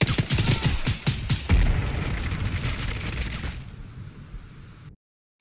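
Rapid bursts of gunfire in the military video game Arma 3, loud sharp cracks in quick succession fading into echoing booms and rumble before cutting to silence.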